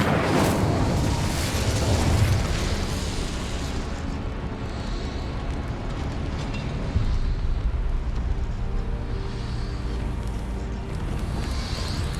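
Fire spell cast in Hogwarts Legacy gameplay: a loud, dense explosive burst at the start that rolls into a sustained roaring rumble and slowly fades, with no talk.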